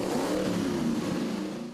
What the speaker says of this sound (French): C'est une Mustang Mach 1 de 1972 que j'ai tuné moi-même avec des pièces que j'ai achetées en Amérique, entre autres un moteur NASCAR